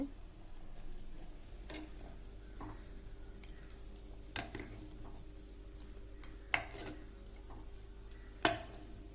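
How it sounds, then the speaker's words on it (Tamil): Faint, steady sizzling of okra tamarind curry in a pan, punctuated by a few sharp scrapes and taps of a spoon stirring, with no voices. "புளி தண்ணி சேர்த்து நல்லா வணக்கி விட்டுருங்க"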